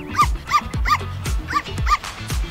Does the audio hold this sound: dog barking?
yes